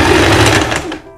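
A sewing machine stitches a dress sleeve in a rapid, close mechanical whir that runs steadily before cutting off near the end.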